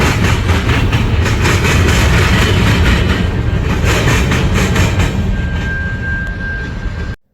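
A train rolls past on a multi-track line, a loud, steady rumble with rhythmic clatter that holds for about seven seconds, joined near the end by a thin high tone before it cuts off abruptly.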